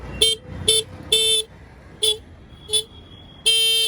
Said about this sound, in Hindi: मस्त बज रहा है हॉर्न।